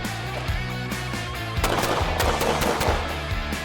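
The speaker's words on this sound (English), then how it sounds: "he wants to shoot that threat in front" Pistol gunshots from a shooting drill ring out as a rapid string of sharp, loud cracks over a steady background hum, closely spaced in the second half.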